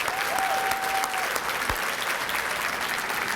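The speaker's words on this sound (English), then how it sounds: "Give her a round of applause." A banquet audience gives a round of applause, steady dense clapping from many hands filling the room at an even level throughout.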